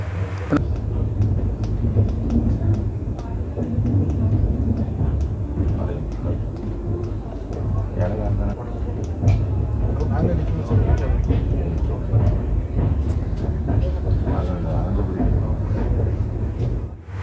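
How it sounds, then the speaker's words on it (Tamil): Continuous low rumble and rattling of a moving Kanniyakumari to Chennai Egmore superfast express train entering Tirunelveli town, with steady clacking and wheel noise throughout, loud and close. "ட்ரெயின் வந்து திருநெல்வேலி டவுனுக்குள்ளே என்ட்ரி ஆகுது"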